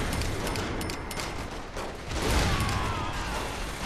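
Tank shot and scattered gunfire in Saints Row 3, a rapid cluster of bangs early on, then a heavier blast around two seconds over dense, noisy chaos.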